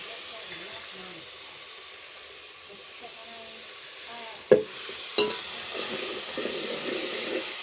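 Ginger, garlic, coconut and coriander are sautéed on a wood-fired chulha for river crab curry. A soft sizzle builds after a sharp clatter and pan scrape, with a quiet voice talking underneath.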